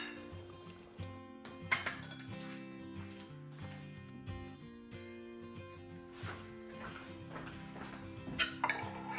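Dishes and cutlery clink and scrape at close range while a tofu and egg noodle stir fry is plated, with scattered sharp knocks and a few louder clatters among quieter handling sounds.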